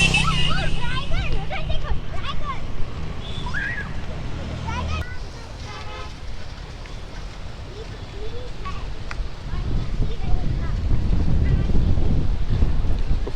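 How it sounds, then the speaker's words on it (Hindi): Strong wind gusts roar across the microphone outdoors, a heavy rumbling buffet that swells and eases, loudest toward the end, while people talk throughout. "बहुत जोर जोर से हवा चल रही है, पता नहीं कितना आवाज कैप्चर हो रहा होगा मेरा"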